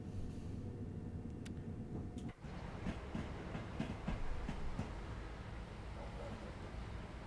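A quiet London commuter train running at rush hour in Train Sim World 2, a steady low rumble with faint rhythmic clicks of wheels over rail joints, and a brief dip partway through.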